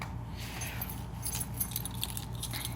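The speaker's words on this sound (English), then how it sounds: "Keys" Keys on an everyday-carry keyring jangle and clink in light, scattered bursts over a steady low background hum, close by and fairly quiet.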